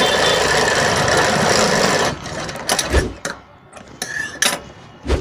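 An electric sewing machine runs steadily while stitching an invisible zip into a blouse, then breaks into shorter stop-start bursts of motor whir and needle clatter, fairly close and loud.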